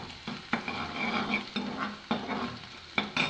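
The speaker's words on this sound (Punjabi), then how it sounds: "ਅਦਰਕ ਤੇ ਲਸਣ ਐਡ ਥੋੜਾ ਜਿਹਾ ਇਹਨੂੰ ਭੁੰਨ ਲਵਾਂਗੇ" Chopped ginger and garlic frying in a little oil are stirred briskly, making a close crackling sizzle broken by a rhythmic series of scraping spoon strokes against the pan.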